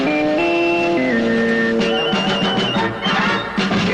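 A brief CBS radio sports signature of held electronic tones stepping in pitch, followed by quick repeated pulses, bright and forward, with no speech.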